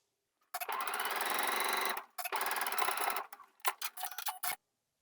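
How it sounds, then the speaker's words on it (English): A sewing machine stitches a quarter-inch seam on a wrap skort in close, loud bursts, with two long runs followed by a string of short stop-start stitches. "Okay, so we just finished our seam, 1/4 inch"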